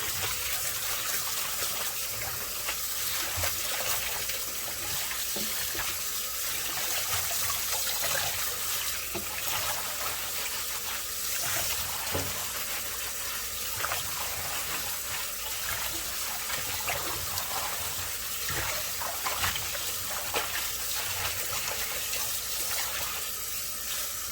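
Steady cold running water from a tap splashes and trickles continuously as collard greens are rinsed under it, with occasional louder gushes.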